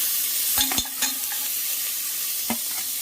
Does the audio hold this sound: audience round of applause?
no